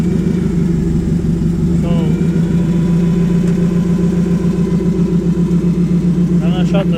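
A forklift engine runs steadily with a low, even throb while the machine is driven, loud and close, with someone speaking briefly over it.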